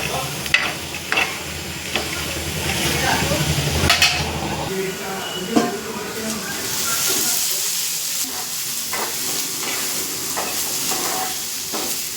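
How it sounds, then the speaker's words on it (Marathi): Chopped onions roasting in oil on a hot griddle, sizzling steadily under clinks and scrapes of a spatula and pan, with some voices in the background. "आता ताव्यावरती भाजून घेते मस्त"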